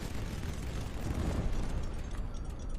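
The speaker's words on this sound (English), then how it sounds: "Kaboom. Target destroyed." A large explosion destroys a target in the naval strategy game HighFleet, heard as a sustained, heavy, rumbling roar with low booms that swell in the middle and carry on for about three seconds without talk.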